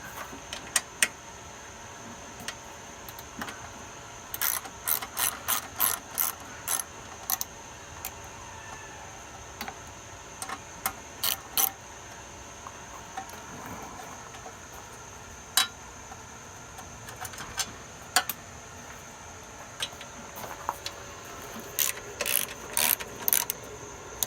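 A 3/8 ratchet clicks in bursts of rapid ticks while bolts are worked on a Craftsman 21-inch lawnmower, with pauses between runs of clicking against a faint background hum.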